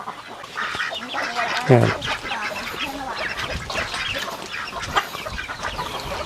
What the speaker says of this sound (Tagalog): Yan yung mga native chicken.